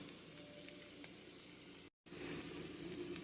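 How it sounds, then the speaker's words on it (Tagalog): Onion frying in a pan for pancit bihon, a steady close crackling sizzle with small pops. It cuts out for a split second, then returns slightly louder. "Fry the onion."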